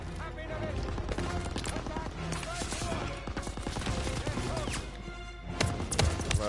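Machine gun fire in a Call of Duty: WWII battle, fast rattling bursts at moderate distance mixed with shouting soldiers and other combat noise, steady and cluttered throughout.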